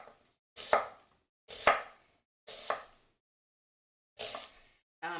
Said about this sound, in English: I'm just going to slice the other half a little bit faster this time.